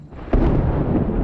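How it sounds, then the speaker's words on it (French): A single sharp thunderclap from a storm at night cracks in suddenly, then a deep, loud rumble rolls on without fading, with no voices. "Je crois qu'il y a vraiment de l'orage."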